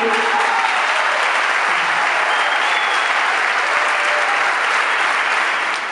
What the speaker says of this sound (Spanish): quiero que brindemos un fuerte aplauso a mis chicos